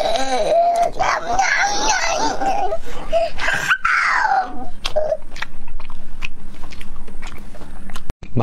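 Food bitten into at a Chinese eating competition, with crunchy bites and chewing up close, mixed with voices and some laughter over a steady background.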